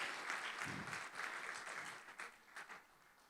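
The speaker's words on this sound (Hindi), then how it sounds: "जोरदार तालियां, जोरदार तालियां।" Loud applause from a church audience at a Sunday School Christmas celebration, a dense burst of clapping that swells and then thins out over a few seconds.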